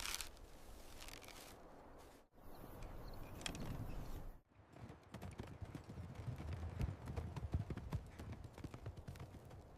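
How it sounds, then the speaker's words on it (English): Horses' hooves clip-clop in an irregular, quiet rhythm as riders move along a trail, the steps faint and close. "They rode the horses quietly,"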